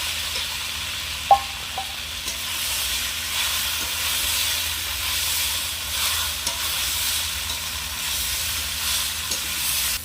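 Okra frying in hot oil with salt and turmeric powder added, a steady sizzle and hiss running throughout, with a few brief clinks of stirring near the start.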